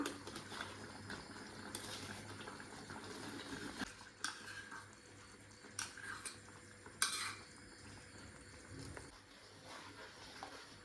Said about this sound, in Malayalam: മാങ്ങയുടെ പൾപ്പ് ചേർത്തതിന് ശേഷം നന്നായിട്ട് മിക്സ് ചെയ്തെടുക്കുക